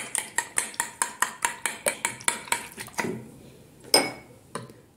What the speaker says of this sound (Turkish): İki tane yumurtayı geniş bir kap içerisine alıyorum. Şöyle güzelce karıştırıyorum.